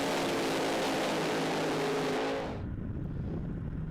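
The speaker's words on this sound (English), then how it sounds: "Lovely side-by-side burnouts" Drag racing cars do side-by-side burnouts at an ANDRA drag strip in Perth, a loud roaring engine and tyre wall that cuts off abruptly to a quieter rumble partway through.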